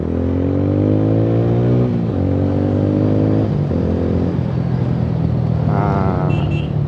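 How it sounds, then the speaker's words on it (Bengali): A motorcycle engine revving up in repeated deep, rising pulls, each climbing in pitch and then dropping back to a throaty idle, loud and close, with no talking over it. "আমি এইটার পরে আমি গাড়িটা টানবো, যখন তোমরা আওয়াজটা পাবে"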